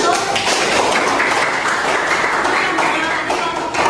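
Students in a classroom give a presenting group a round of applause, a dense, continuous patter of clapping hands that fills the room without a break.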